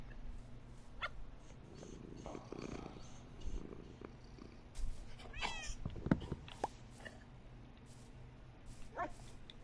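A Minecraft cat purrs and meows close by in a rumbling purr, with short meows and higher yips and barks from wolves mixed in over quiet game ambience.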